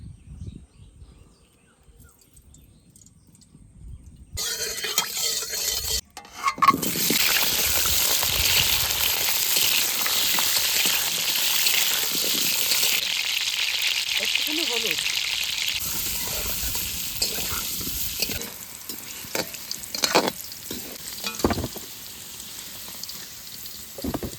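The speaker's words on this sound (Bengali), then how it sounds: "আলু ভাজার জন্য একটু সর্ষের তেল দিয়ে দেবো কড়াইতে" After a brief quiet start, potatoes frying in hot mustard oil in a wok sizzle with a steady, bright hiss, punctuated by occasional clinks and soft background sounds.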